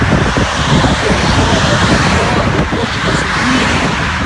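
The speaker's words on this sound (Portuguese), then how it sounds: "os carros vindo" Cars drive past on a road in front of a company building, a steady broad traffic rumble with wind buffeting the microphone throughout, fairly loud and continuous.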